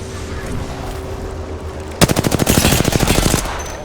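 Rapid automatic gunfire in the Apex Legends battle royale game, a loud close burst of evenly spaced shots lasting under two seconds after a steady background hum, with no talking.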